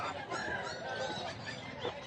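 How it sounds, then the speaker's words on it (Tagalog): Heritage chickens cluck and squawk in a steady crowded chorus at a busy pet market in Bocaue, close and continuous, with a few honking calls cutting through. "Puro heritage chicken."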